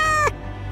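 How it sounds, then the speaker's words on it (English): A kitten gives one short, close, high meow that breaks off quickly, followed by a low background hum. "Kill the kitten."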